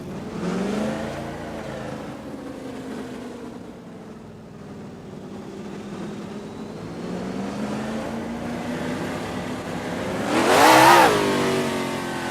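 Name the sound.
car engine revving with the turbo up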